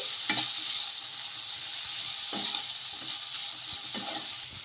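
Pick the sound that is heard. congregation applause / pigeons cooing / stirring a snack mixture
stirring a snack mixture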